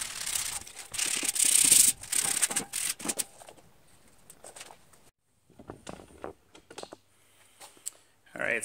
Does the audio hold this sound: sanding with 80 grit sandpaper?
yes